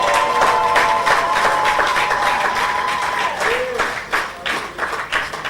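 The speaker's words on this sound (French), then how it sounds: "Applaudissons le Seigneur" A church congregation claps together during a worship service, dense steady applause filling the room with scattered voices mixed in, while a sustained tone, probably an organ or keyboard, carries through, then the clapping thins into separate bursts toward the end.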